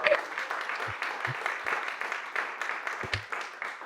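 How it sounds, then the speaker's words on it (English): An audience applauds a stand-up comedian introduced on a panel, a steady wash of moderate clapping with a few thumps, heard at a distance for a few seconds. "Everybody give a big round of applause."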